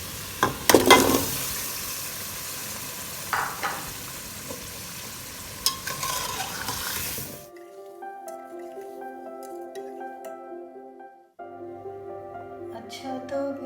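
Cut potatoes go into a pot of frying masala for a green aloo pulao, with a loud sizzle and a few clinks of stirring that stop abruptly, followed by a quiet stretch with faint clinks.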